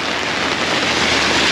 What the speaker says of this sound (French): La première journée de pluie